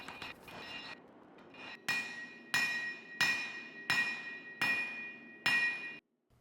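Hot steel stock for an integral chef's knife is hammered on an anvil, a run of about seven heavy, evenly spaced ringing strikes with metallic overtones, close and loud, after a few lighter taps.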